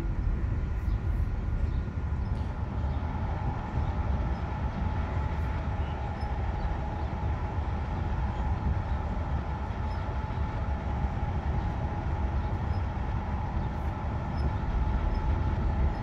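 An ÖBB 4746 Cityjet electric train runs steadily in Train Simulator Classic, giving a continuous rolling rail drone with a faint motor whine and no distinct clicks.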